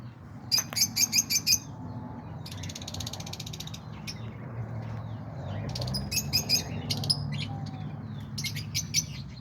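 Young cockatiels, lovebirds and parakeets fresh out of the nest chirp in sharp rapid bursts and buzzy trills at a home loft, the close clusters repeating on and off over low steady background hum.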